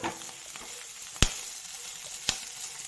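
Green chilies, cinnamon, cloves and cardamom fry in a pan with a steady, close sizzle, broken by two sharp clinks of a spoon against the pan.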